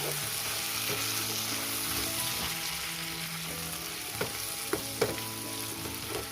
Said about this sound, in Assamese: ভাজি থোৱা ব্ৰইলাৰখিনি এড কৰি দিম। আৰু ভালকৈ মিক্স কৰি দিম।